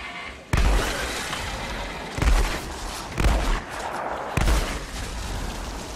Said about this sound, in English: I wanted to try out the hip fire